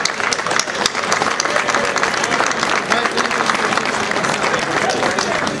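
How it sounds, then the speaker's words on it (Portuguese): A crowd at a protest rally in Loures claps steadily throughout, with dense, sustained applause that neither builds nor fades. "o nosso agradecimento e uma salva de palmas"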